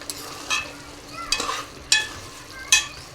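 A spoon stirs mutton curry with salt and turmeric in a pan, scraping in a few distinct strokes over a soft background sizzle.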